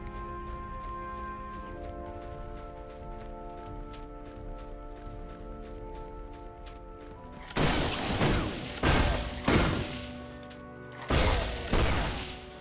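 Gunfire in the action RPG Torchlight 2 on Xbox Series X: a handful of loud, sharp shots in short bursts break out over steady game music late in the stretch, with no talking.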